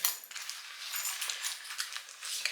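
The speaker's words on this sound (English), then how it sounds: "My house keys." A set of house keys being handled and slipped into a running belt pocket, giving faint, scattered metallic jingles and clinks across a couple of seconds.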